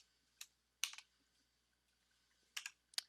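A few sparse computer keyboard keystrokes click in short clusters, close and fairly quiet against near silence, as a word is typed into a search bar.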